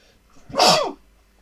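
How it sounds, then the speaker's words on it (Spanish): A single loud human sneeze, close and sharp, rising quickly and fading within about half a second, alone against a quiet background. "Voy a estornudar"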